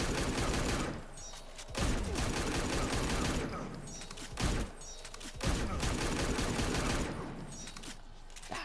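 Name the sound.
Deadshot rifle shots in fighting video game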